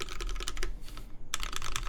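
Typing on a Baron Boards BP One mechanical keyboard: close, crisp keystroke clicks in quick irregular bursts, with one brief pause before a fresh flurry of presses.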